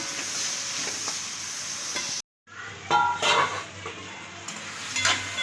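Onions and then tomatoes sauté in a hot pan for coconut-roasted chicken, a steady close sizzle with stirring scrapes and utensil clinks, broken by a short silent gap before the frying resumes.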